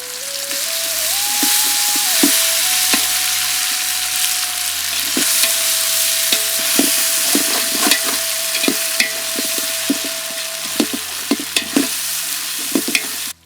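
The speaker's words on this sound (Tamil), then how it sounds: "அரைச்சி எடுத்துக்கிட்ட மிளகு சீரக மசாலாவை இப்போ சேர்த்துக்கலாம்." Ground pepper and cumin masala sizzles steadily in a hot pan for a chicken curd biryani, with repeated scraping stirs and clinks of a spoon against the pan over a continuous frying hiss; no voices.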